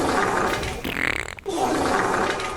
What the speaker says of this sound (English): That was the sound of Duncan when he pooped his pants at Lowe's